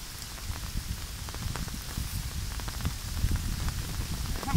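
Steady rain pours down outdoors during a downpour while fish traps are being set, a dense, continuous patter of drops drumming on surfaces, close and loud with no voices.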